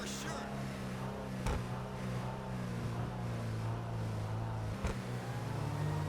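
An Ocelot Ardent, the Lotus Esprit lookalike in GTA 5 Online, idling after starting up, a steady low engine hum near at hand with a couple of sharp clicks.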